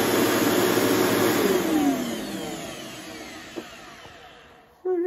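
An old vacuum cleaner that was soaked in rain runs with a steady loud whine and motor roar, then winds down gradually as it is switched off, fading over the last seconds before a brief thump.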